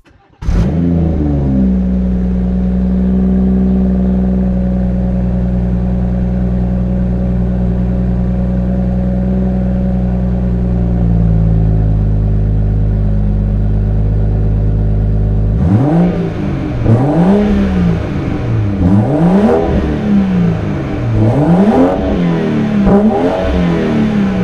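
A 2017 BMW M240i M Performance with a reworked exhaust system, integrated flaps and no middle silencer starts up loud, settles into a steady idle drone, then revs repeatedly in sharp rising and falling bursts.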